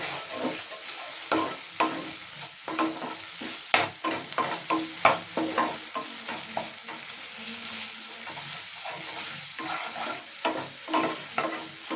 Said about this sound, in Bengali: ভাজাটা একটু ভালো করে করতে হবে। ভাজাটা করলে গন্ধটা ভালো হবে।